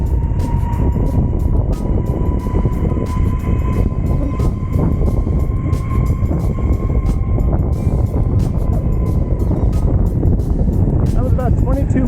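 Exway Atlas Carbon 4WD electric skateboard speeding up on a smooth street: a steady, loud rush of wheel and wind roar with a thin electric motor whine running through it, close and continuous for the whole stretch.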